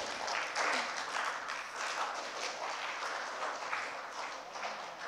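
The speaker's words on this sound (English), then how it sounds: "Let's clap back, folks." Large conference crowd at a UX design talk in India applauding, a continuous broadband patter of many hands at steady strength throughout, with no clear voice above it.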